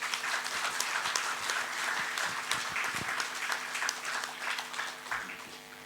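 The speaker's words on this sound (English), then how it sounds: "So a loud round of applause." Festival-goers at a literature and art festival session in Bhopal give a sustained round of applause for an author, steady, close, even clapping from a sizable crowd lasting the whole stretch.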